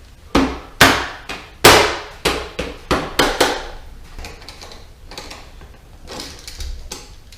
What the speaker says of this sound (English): Then we're going to bolt it down.